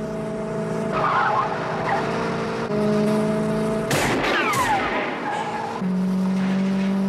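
Two Chevrolet cars in a film car chase skid and squeal their tires over roaring engines, with a burst of crashing noise midway and voices shouting in the background.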